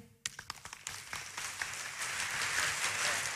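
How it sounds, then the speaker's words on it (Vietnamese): Audience applause at a school event in Bạc Liêu, many hands clapping in a steady, dense wash that starts abruptly after a brief quiet and holds at a fairly even level. "xin được cảm ơn những tràng vỗ tay của các bạn ạ"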